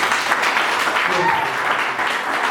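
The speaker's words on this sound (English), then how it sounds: "I think we need to give them a round of applause." Applause from an audience at a book launch in a café, a steady dense patter of clapping that fills the room without pause, with some voices mixed in.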